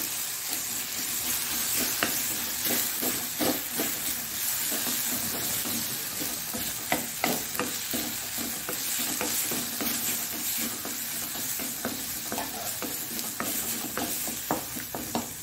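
Spice masala frying in oil for an egg masala gravy, a steady close sizzle and crackle with scraping stir strokes recurring through the whole stretch, no voices.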